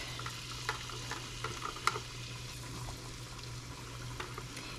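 Onion and garlic frying in hot oil in a small pot, a steady close sizzle with scattered crackles and pops, no voices.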